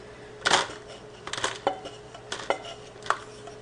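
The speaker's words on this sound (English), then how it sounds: "I'm just going to divide this into 6 of my reheatable Ziploc bowls" Cooled turkey sausage being spooned into reheatable plastic Ziploc bowls, a series of soft clinks and scrapes recurring every half second or so, close and moderately quiet.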